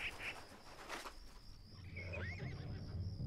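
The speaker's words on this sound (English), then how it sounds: "Here, look, horses. Get the horses." Horses whinny and neigh in the Battle Realms strategy game, several short calls over a low rumbling backdrop with faint clattering game sounds.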